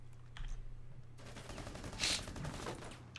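Bursts of gunfire in Rainbow Six Siege, a crackling volley starting partway through with one loud sharp blast near the middle, heard at moderate distance over low hum.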